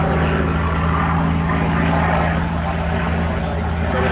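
A Yakovlev Yak-9, a WWII Soviet piston-engine fighter, drones loudly and steadily through a flight display, its propeller engine roar continuous and close.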